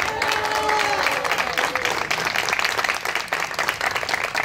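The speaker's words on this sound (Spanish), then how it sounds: "Primero, el aplauso para Melissa, por favor." A room full of people at a baby shower clapping steadily, dense and lively, with a few cheers and voices rising briefly near the start.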